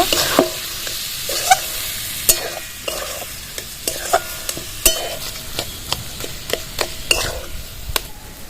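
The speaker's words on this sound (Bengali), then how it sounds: "ভালো করে মিক্স করে নেব" Mashed boiled potato stirred together with turmeric and salt while making fish finger filling, giving repeated scraping and tapping strokes of a spoon against the bowl at an uneven rhythm, close and moderately loud with no talk.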